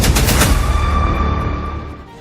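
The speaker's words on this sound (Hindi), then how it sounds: "2 गोलियां चली" Gunshots boom out in a loud, dense burst of cracks that rolls into a fading echo and tail, with no voices over it.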